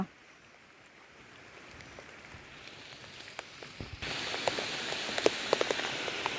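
Rain falling in a forest, a soft continuous patter with scattered distinct drops that grows noticeably louder partway through, no voices.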